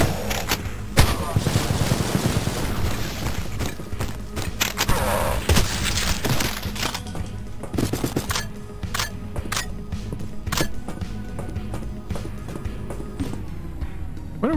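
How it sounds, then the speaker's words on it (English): Machine gun fire in the game Cultic, with rapid bursts and sharp individual shots crackling over about fifteen seconds amid booms and movement noise, loud and close. "Keep shooting me with machine guns, and I never got a machine gun."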